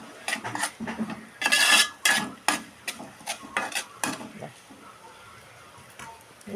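Washed, drained broken wheat goes into a pan for upma and gets stirred: a rush of grains hitting metal, then a series of spoon scrapes and clinks against the pan that fade toward a soft sizzle, with a voice speaking now and then.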